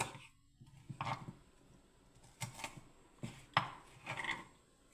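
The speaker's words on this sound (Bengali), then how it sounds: "আমি পেঁয়াজ কাটছি" A knife chops onion on a board in uneven bursts of close, dull knocks and scraping strokes separated by short pauses, with no one speaking.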